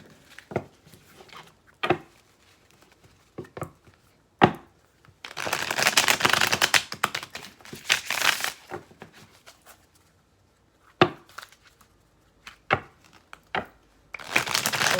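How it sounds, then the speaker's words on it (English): Tarot cards being shuffled in quick riffling bursts, with crisp papery flutters and taps separated by short pauses, close and fairly quiet. "I'm going to do one more shuffle."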